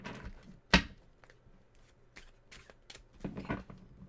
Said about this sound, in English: Tarot deck a good shuffle.